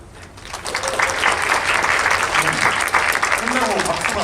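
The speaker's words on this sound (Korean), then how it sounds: "전체적으로 박수가 나왔습니다." A film-screening audience at a special guest-visit event breaks into applause: a dense, steady patter of many hands clapping that rises within the first second and holds loud throughout, with voices underneath.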